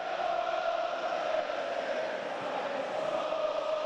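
Football crowd at a Sunderland match against Rotherham United, a steady, distant roar of massed voices that holds at an even level without distinct cheers or peaks.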